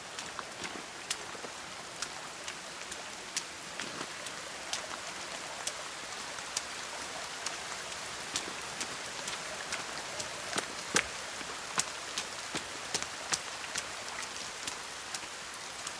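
Steady rain falls on hard surfaces in the video game The Forest, a soft continuous hiss dotted with sharp individual drip and tap sounds, fairly quiet with no voices.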